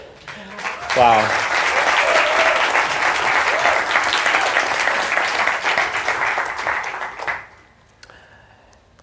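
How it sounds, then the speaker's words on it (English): Audience applause at an award ceremony during an innovation summit, a dense sustained wash of clapping that swells quickly, holds for several seconds and then cuts off, with a brief exclamation near the start. "Round of applause for"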